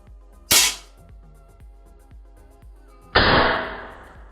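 Two sharp shots from a Predator Tactical OD38 PCP air rifle crack out loudly a few seconds apart, each followed by a brief ringing decay, against a faint ticking background.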